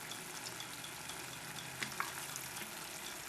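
Sliced onions with a splash of vinegar cook for hot dog onions in a pan, a steady hiss of sizzling and bubbling with a couple of faint pops and clicks.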